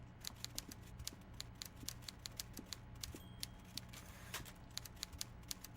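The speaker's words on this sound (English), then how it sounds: "I hear a typewriter." A typewriter clacks away inside the video game Disco Elysium, sharp keystrokes coming in an irregular but continuous run over a low ambient hum, no one speaking.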